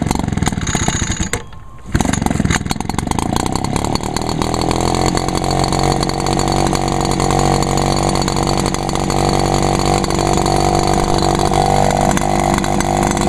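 A small Echo gas-powered outdoor equipment engine is pulled over, catches after a brief pause, then settles into a loud, steady two-stroke buzz that keeps running close up without faltering.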